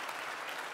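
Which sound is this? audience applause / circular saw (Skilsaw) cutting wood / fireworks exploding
audience applause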